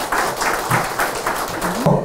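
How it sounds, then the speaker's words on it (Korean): Audience applause at a Korean art forum, a short burst of scattered clapping rising and falling in loose pulses. "방금 소개해드리는 5분의 발제자 여러분께 다시 한번 뜨거운 박수 부탁드리겠습니다"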